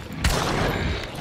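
A gunshot from the Hunt: Showdown video game, a single loud broadband blast followed by a lingering rumbling tail, heard alone without any talk.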